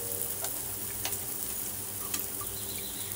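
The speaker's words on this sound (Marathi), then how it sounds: "आता बघा तेल सुटतंय साईडनी, म्हणजे आपला मसाला हा छान फ्राय झालेला आहे." Masala spiced with red chilli sizzles steadily in oil as lengthwise-cut brinjals go into the pan for stuffed eggplant, a close, even frying hiss with a few faint clicks and no talking.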